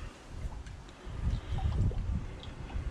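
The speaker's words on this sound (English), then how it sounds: "Give it a good stir." Priming sugar being stirred into homebrew beer during bottling makes a low sloshing, swirling liquid churn that grows stronger midway and keeps going steadily, with no voices.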